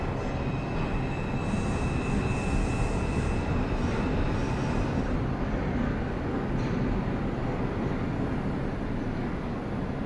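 A subway train on the IRT mainline in a Roblox game rumbles steadily and loudly throughout, a constant dense roar with a faint high whine and no voices.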